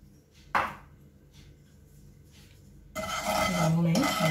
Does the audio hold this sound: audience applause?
no